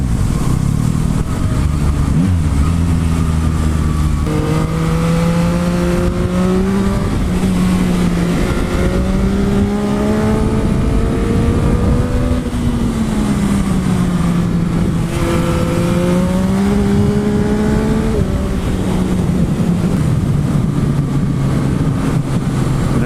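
Engine of a 2021 Yamaha MT-09 SP motorcycle on the road, steady loud drone rising and falling through gear changes and revs over continuous wind rush, with no talking.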